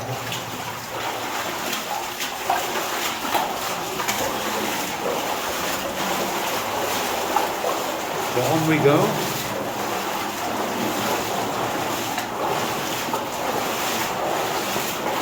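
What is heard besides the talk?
waterfall echoing inside an old lead mine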